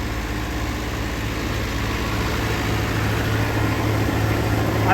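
A New Holland 850 tractor engine runs steadily at around 1450–1500 RPM, a loud, continuous low hum with a constant pitch throughout, close by and with no one talking.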